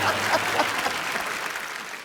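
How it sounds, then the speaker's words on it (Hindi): A studio audience at The Kapil Sharma Show, a comedy talk show, claps in brief, fairly soft applause that fades slightly over two seconds. "एक बार ऋषि सर और नीतू मैम के लिए जोरदार तालियां हो जाएं।"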